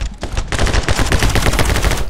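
Rapid gunshots fire in the video game My Friend Pedro, a loud dense volley of shots in quick succession with no pause.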